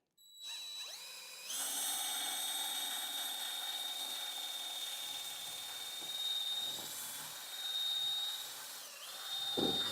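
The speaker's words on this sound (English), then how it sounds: "How many of you guys are running a DeWalt paint mixer in your shop?" DeWalt paint mixer spinning in a screen printing shop, a high steady whine that spins up quickly and holds, with slight dips in pitch under load as it runs for several seconds.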